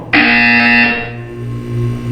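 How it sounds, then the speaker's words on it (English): A loud, harsh electronic buzzer from the video game Portal 2 sounds once, holding for about a second before fading into a lingering hum. "When you hear the buzzer, look down at the floor."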